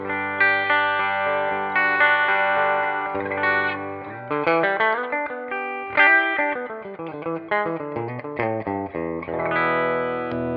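A Gibson 335 electric guitar played clean through a Tonex pedal rings out in a steady run of chords and single notes, up close and alone, with a touch of chorus and reverb.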